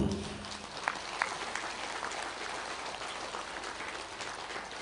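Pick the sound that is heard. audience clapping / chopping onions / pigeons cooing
audience clapping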